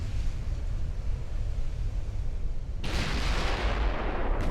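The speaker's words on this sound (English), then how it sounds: "We just hit them with 16 torpedoes" Torpedoes striking battleships in the naval game Ultimate Admiral, a constant deep rumbling roar of detonations that swells into a louder, brighter burst of blasts near the end.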